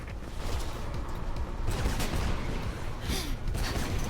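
Gunfire in the Mirror's Edge prologue: dense, sustained bursts of shots that run steadily through the whole stretch, loud and continuous, with no talking.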